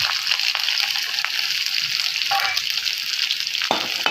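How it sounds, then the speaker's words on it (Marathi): Finely chopped garlic sizzles in a hot pan for hotel-style Manchurian rice. The frying hiss is loud and close and holds steady throughout, with a few soft stirring clicks and no voices. "हा लसूण घेतलेला आहे मी बारीक करून,"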